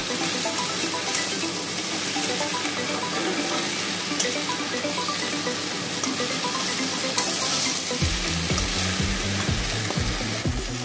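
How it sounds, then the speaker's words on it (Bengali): Spices sautéing in a pan for a katla fish curry with bori, a steady frying sizzle throughout, joined near the end by louder rhythmic stirring or scraping strokes. "তো এবার কষানো চলছে, আর একটু কষাবো।"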